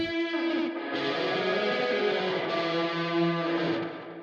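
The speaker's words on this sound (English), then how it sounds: "I use Tape Echo from UAD as a delay and reverb for this guitar." Sustained distorted guitar chords ring through UAD Tape Echo delay and reverb, thick and loud with smeared echoing tails between changes, no voices.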